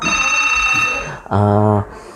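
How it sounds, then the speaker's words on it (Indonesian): An incoming call makes a phone ring with a steady, bright electronic tone that sounds clearly and close for over a second before a voice speaks. "Ini maaf, ada telepon masuk."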